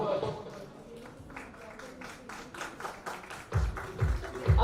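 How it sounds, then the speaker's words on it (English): Audience clapping at the live Pride of India Iconic Award ceremony in a packed hall, with quick rhythmic hand claps and a host's voice running over them, swelling louder toward the end. "Can we have a loud round of applause, everyone in the room?"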